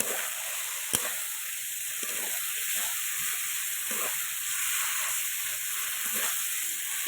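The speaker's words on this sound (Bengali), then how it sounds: "লতিগুলো মাখিয়ে রেখেছিলাম নাড়াচাড়া দেবো। ভালো করে একটু ভাজা ভাজা করতে হবে।" Quiet, continuous frying hiss of taro stolons in a pan with soft scraping of stirring, plus a faint steady whine in the background.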